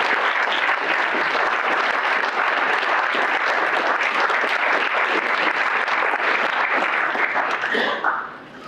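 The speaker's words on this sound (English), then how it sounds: "I think that was what that round of applause was" A meeting audience gives a long, loud round of applause for the 2025 cohort, dense steady clapping filling the room that fades away near the end.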